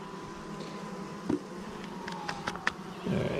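Honeybees buzz steadily in a close, continuous hum as they are shifted from a swarm trap into a 10-frame hive, with a few light knocks and handling sounds over the drone.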